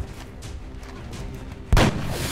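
A single loud gunshot from the XCOM: Enemy Within video game cracks out as one sharp, booming burst near the end, following a low, murmuring game background.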